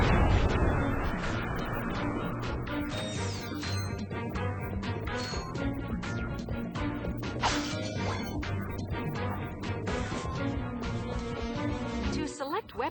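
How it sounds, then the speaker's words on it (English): Nitro launcher fire in Ratchet & Clank: Up Your Arsenal hits an enemy vehicle, heard as repeated crashing explosions and metallic clanks over a busy battle mix, with character voices heard over the action. "Try using the nitro launcher against that vehicle."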